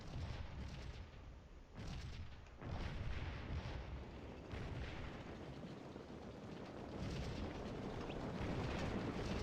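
Civil War artillery in the Scourge of War game at the Battle of Stones River rumbles as a sustained, loud wash of distant cannon booms, with a few sharper swells standing out from the roar.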